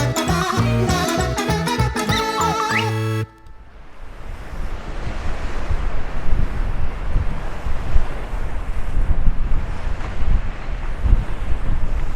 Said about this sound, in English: And when I turn here, I got the waves from the starboard side,